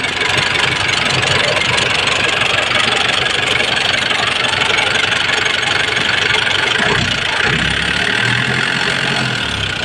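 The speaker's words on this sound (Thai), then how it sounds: "เครื่องแน่นมากเลยนะครับ ดูครับ ไม่มีไอนะครับ" A Nissan Big M BD 2500 pickup idles close up, a loud, steady diesel-like rumble throughout with a slight dip and wavering near the end.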